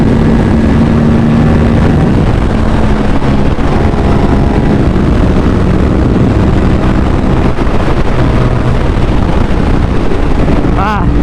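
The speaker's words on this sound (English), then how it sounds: "I'm on 5th gear, I'm on full throttle." An Aprilia RS457 motorcycle held at full throttle in fifth gear, a steady loud engine drone largely buried under heavy wind rush against the rider's microphone, continuous and unbroken throughout.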